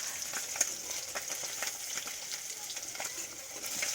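Whole fresh fish frying in hot oil gives a steady, bright sizzle with a dense crackle of small pops throughout, close and even, with no talking.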